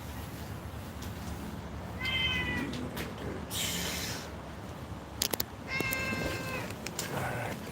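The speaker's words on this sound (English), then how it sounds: "The cats are deprived." Several house cats meow in two clear bursts, a couple of seconds apart, over a steady background hiss, with a few sharp clicks between the calls.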